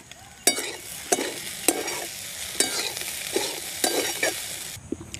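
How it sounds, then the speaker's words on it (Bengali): Spicy pasta with egg is stirred in a pan, about eight regular spatula strokes, each a sharp scrape with a burst of sizzle, over a steady low frying hiss. "ডিমটা মিশিয়ে দিয়ে পাস্তাটা আরও কিছুক্ষণ আমি রান্না করব নেড়ে চেড়ে দিয়ে।"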